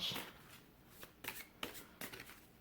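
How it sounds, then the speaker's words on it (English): Tarot cards being shuffled in a few quick riffling bursts, each a short crisp rustle close by, with quiet pauses between and no talking. "Let's pull a couple cards for your advice"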